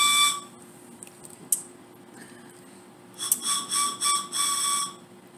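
A Whistle Pop candy is blown to make a shrill, high whistle: one short toot, then a series of four or five quick bursts, fairly faint against a quiet room.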